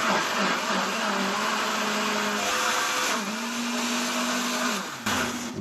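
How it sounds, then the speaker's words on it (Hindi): Kitchen blender whirring as it purees cooled tomato gravy for butter chicken, a steady high-pitched motor drone that shifts pitch as the load changes, with a brief dip near the end. "ग्रेवी को ठंडा होने पर मैं ब्लेंडर में डाल रहा हूँ।"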